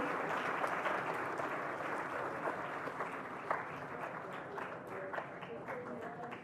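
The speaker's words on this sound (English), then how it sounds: "put your hands together and give them a round of applause" A leadership summit audience applauds steadily, a dense wash of clapping at moderate level with a few sharper claps poking through and faint voices mixed in.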